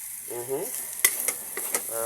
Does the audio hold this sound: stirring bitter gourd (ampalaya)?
yes